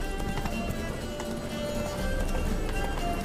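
Horse galloping in The Witcher 3, a steady, rapid clip-clop of hooves over a constant background rumble throughout, fairly close.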